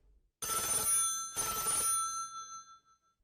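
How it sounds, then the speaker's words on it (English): Telephone bell ringing as a story sound effect, two loud bright rings separated by a short gap, heard alone with no talk. "10 minutes later, the telephone rang."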